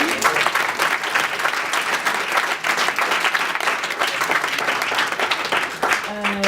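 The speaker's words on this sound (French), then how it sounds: "oui, on t'applaudit" Sustained applause from an audience at a French-language entrepreneurship event, dense and even clapping throughout, with a brief tonal sound near the end.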